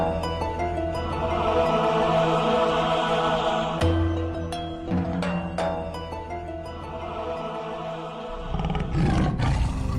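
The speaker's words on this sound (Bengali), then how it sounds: "দেখতে তো মনে হচ্ছে গরু, কিন্তু ডাকছে তো বাঘের মতো।" A white tiger in the Sundarbans forest roars loudly and repeatedly in a long, rumbling sequence that swells and rolls on for the full stretch, with no voices heard.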